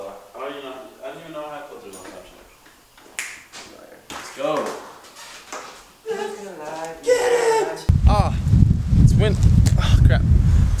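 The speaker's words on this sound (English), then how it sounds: "Windy out here in Phoenix, Arizona" Someone talks outdoors in Phoenix, Arizona while gusting wind grows stronger, ending in a loud, steady rush of wind buffeting the microphone.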